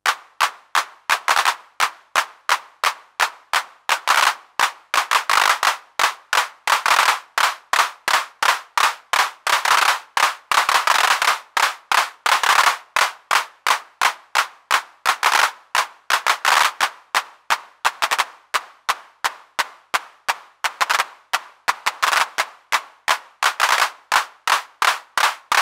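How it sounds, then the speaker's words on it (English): A Dijkstar RiDrum THC-01 clap sound fires repeatedly as a loud run of sharp dry hits, speeding up from spaced clicks to a fast rattle and slowing again over and over. "changing the speed means you can go from a slow progression of clicks to a really fast rattle"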